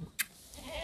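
Goat at a goat farm in Ajmer, Rajasthan, giving one brief, sharp bleat near the start, followed by quiet farm background without voices.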